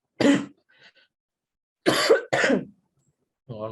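A sick person coughs during a spoken programming lesson: a sharp cough, a faint follow-up, then a quick double cough after a pause, each burst loud and close against silence, with a voice starting at the end.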